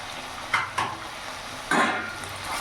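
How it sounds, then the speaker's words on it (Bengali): Chicken being stirred with chilli, coriander and cumin powders in a hot pan for chicken bhuna: a few distinct scraping strokes of a spatula over a low frying sizzle, close and fairly loud. "এবার ভালো করে নাড়াচাড়া করে মিশিয়ে নেব"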